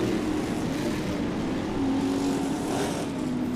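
An off-road racing truck engine roars steadily during a race at Bark River, a loud continuous drone with slight shifts in pitch as the truck works through the turns, and no voices.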